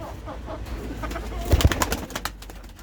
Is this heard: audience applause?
no